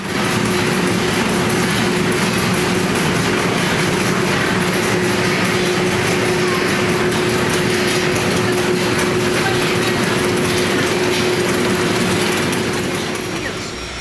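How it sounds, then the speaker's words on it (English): YGB350 high-speed flat-type lollipop production line running, a loud steady mechanical clatter of rapid ratcheting and whirring parts with a constant tonal hum, continuous throughout with no pauses. "One machine, two functions, foaming and wrapping."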